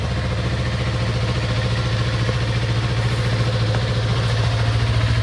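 A Yamaha R3 motorcycle engine idles while warming up on a cold, snowy day, giving a steady, close, low rumbling putter with an even rhythm and no talk.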